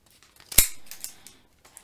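Scissors snipping the corners off a sheet of paper: one sharp close cut followed by a few fainter small snips, alone in a quiet room.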